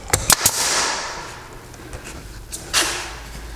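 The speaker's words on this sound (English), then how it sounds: "So then what I do is I'll shoot a nail to the top." A nail gun drives nails into window trim, giving several sharp, close pops in a quick burst, then a softer hiss and another bang later, with no talking.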